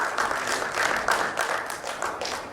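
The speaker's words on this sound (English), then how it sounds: "let's give him a round of applause" At a finance-sector panel event, an audience applauds as a speaker is invited onstage, producing a fairly quiet, steady patter of clapping with distinct individual claps that keeps going without a break.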